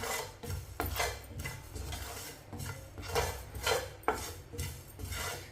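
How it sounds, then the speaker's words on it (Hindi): A spoon stirs and scrapes spices dry-roasting in a pan, giving repeated rhythmic rasping strokes with soft metallic clinks, close and fairly quiet. "मसालों को इसी तरह चम्मच चलाते हुए भूनना है।"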